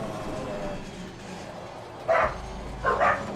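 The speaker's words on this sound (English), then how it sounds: "Sorry if you guys hear that. My dogs." Pet dogs barking in the background of a home during a racing game session, two short muffled bark bursts at a distance over steady game engine noise.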